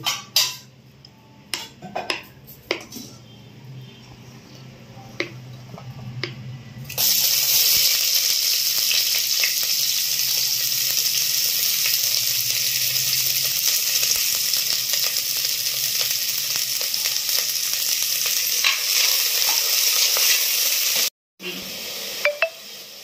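Chopped onions with curry leaves frying in hot oil in a pan for a mutton lungs curry, a loud steady sizzle that swells after a few utensil clinks and runs on continuously, with a voice talking now and then.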